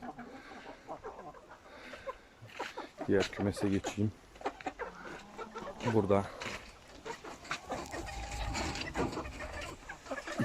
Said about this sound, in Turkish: 4 horoz bir tavuk.